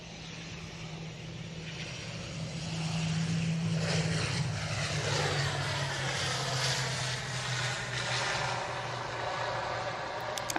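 Loganair propeller airliner at Manchester Airport, a steady droning turboprop hum that swells and shifts pitch as the aircraft passes fairly close, no talking.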